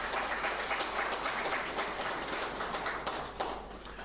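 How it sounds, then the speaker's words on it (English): Audience applause for the president at a public address, a steady patter of many hands clapping, moderately loud and continuous, with no speech over it. "A round of applause, please, for the president."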